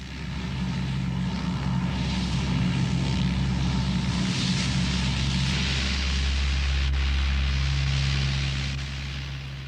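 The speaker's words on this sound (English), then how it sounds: "As the giant Hercules lumbers down the runway for takeoff, some of us pray." A large Lockheed Hercules turboprop transport plane lumbers down the runway for takeoff during a 1971 evacuation flight, its propeller engines producing a steady, loud, unbroken drone throughout.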